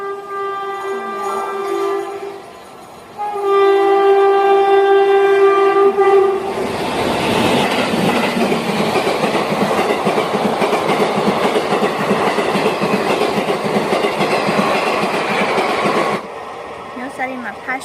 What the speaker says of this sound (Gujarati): આમથી ટ્રેન આવે છે એકદમ ફાસ્ટ ટ્રેનો.